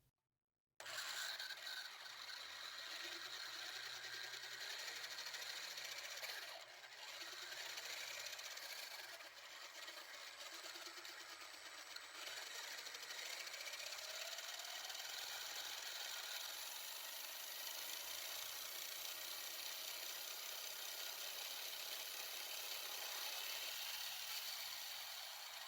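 An RC truck's electric motor revs under throttle while the truck sits on a table, a steady high whine that holds for over twenty seconds with slight rises and dips, close and continuous.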